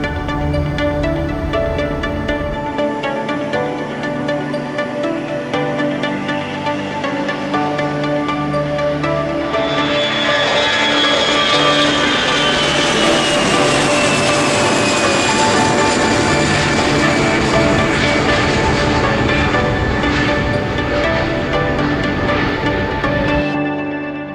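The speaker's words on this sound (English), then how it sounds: "today we're going to be showing you the demonstration of the Airbus A380-800 with Rolls-Royce engines" Simulated Airbus A380-800 with Rolls-Royce jet engines in the SimplePlanes game, a loud steady engine drone with tonal whine that swells into a broader rising roar midway, then cuts off abruptly at the end.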